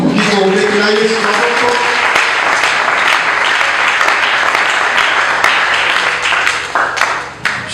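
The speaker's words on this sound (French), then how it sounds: "Nous pouvons acclamer Jésus." An evangelical congregation breaks into loud sustained applause and cheering, with shouting voices inside the clapping before it thins out at the end.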